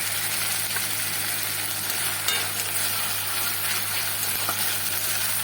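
Spices sizzle steadily in hot oil in a home kitchen as Kashmiri chilli powder is fried for a parshe fish jhal, a constant close hiss with no break and no talking.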